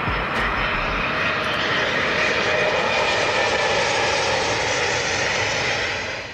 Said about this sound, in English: Embraer E195-2, a modern regional passenger jet from Brazil, part of the E-Jet E2 series.